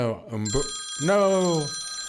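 A telephone rings with a steady electronic tone that runs under someone talking over it.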